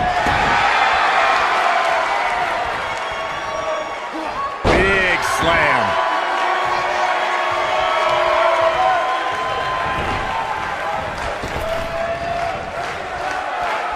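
A wrestler is slammed onto the mat during a pro wrestling match, one sharp loud impact cutting through steady crowd noise and commentary.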